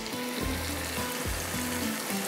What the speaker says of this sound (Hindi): यहाँ पर डालते हैं थोड़ा सा पानी